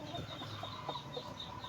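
Breeding chickens make a few soft, scattered clucks and short calls over faint farmyard background noise, quiet and slightly distant throughout.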